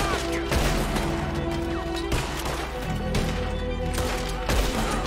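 Gunfire in Red Dead Redemption 2 cracks out as repeated sharp shots at irregular intervals over a continuous background of game music and ambience.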